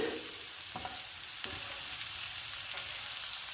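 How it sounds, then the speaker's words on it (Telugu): Eggs frying in a pan of onion curry with meal maker, a steady close sizzle with a few soft scraping clicks of stirring, no talking. "గుడ్లను కూడా 1 నిమిషం వేయించుకోవాలి"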